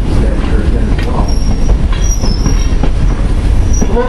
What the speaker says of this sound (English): The locomotive pulling our train today to Thomas Edison was built expressly for Greenfield Village in 1932